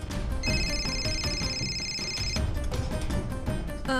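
A telephone rings with a bright electronic trill for about two seconds over steady background music.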